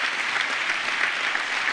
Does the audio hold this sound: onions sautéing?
no